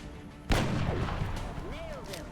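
A single heavy Gauss long rifle shot from the XCOM Long War game, a sharp loud blast followed by a long rumbling decay and a brief electronic whistle near the end.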